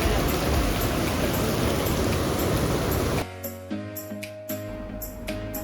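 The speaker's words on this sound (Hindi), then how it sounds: "क्या भयंकर बारिश हो रही है भाई" Dense, loud rain roars for about three seconds, then drops abruptly to a quieter patter with scattered drips and a low steady hum.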